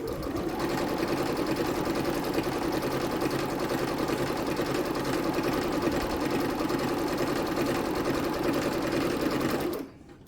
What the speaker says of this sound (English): I'm just going to sew down